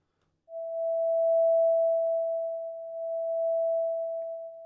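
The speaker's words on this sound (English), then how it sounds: "now you hear that the amplitude is smoothed out because we're moving between values, but we're not doing it discreetly" A steady pure sine tone built in Pure Data with a 50 ms amplitude ramp fades in smoothly, then its loudness swells and dips gently without clicks over several seconds, alone.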